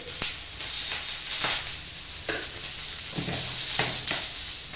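Capsicum with a little salt sizzles and is stirred on an oiled griddle for a veg sizzler, a steady hiss of frying broken by several scraping stirs at irregular intervals, close and alone.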